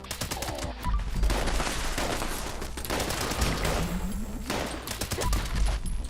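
Rapid bursts of gunfire in the video game Fallout 76, with dense, loud volleys of shots crackling almost continuously, a few heavier thumps standing out among them.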